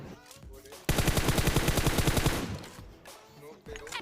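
Rapid automatic gunfire in the shooter game PUBG Mobile, a loud sustained burst of about a second and a half with densely packed shots, then quieter game ambience with faint talk around it.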